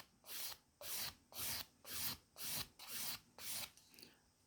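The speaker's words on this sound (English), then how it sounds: "I'm just going to grab my 150 sanding stick and just sand that" Someone sands the base of a resin print flat with a 150-grit sanding stick in steady, regular back-and-forth strokes, about seven rasping passes, close up with brief pauses between them.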